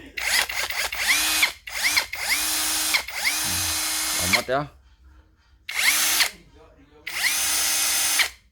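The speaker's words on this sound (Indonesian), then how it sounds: "Kita tes di mode bor aja ya" A Zhipu or Skoota budget power drill whirs in drill mode in several bursts, spinning up and stopping with gaps between, close and loud, with brief speech in a pause.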